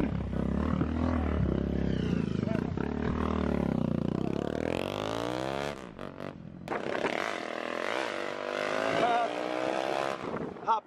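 A Today 330cc motorcycle engine revs hard and drones through rising and falling throttle, cutting out briefly before roaring again, loud and close with people talking over it.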